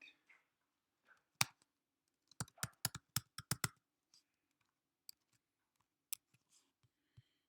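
Typing on a computer keyboard in a quiet room: scattered single key clicks, then a quick burst of several close, crisp keystrokes, followed by a few sparse taps.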